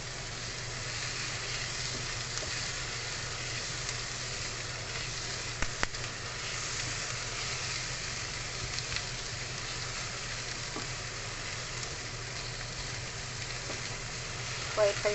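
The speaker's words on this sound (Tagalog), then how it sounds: "Fried onions and garlic." Onions and garlic sizzle steadily in a hot pan over high heat, a constant close frying hiss broken by a few sharp stirring knocks.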